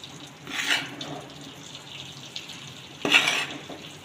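Wheat flour for sukhdi is stirred in a pan, giving two soft scraping sweeps over a faint, steady background, quiet and close with nothing else around.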